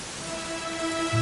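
Rain falls steadily in the video game Dragon Quest XI, a constant broad hiss with a soft musical tone running underneath and no talk.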